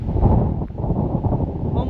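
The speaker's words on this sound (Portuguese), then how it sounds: "o vento voltou" Steady gusting wind buffets the microphone on a coastal hiking trail in Portugal's Costa Azul, a continuous low roar filling the whole moment with brief dips.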